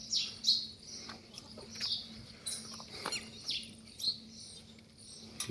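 Small birds come to scattered millet near a horse stable, chirping in scattered, high, quick notes, fairly faint and at a distance, over a low steady hum.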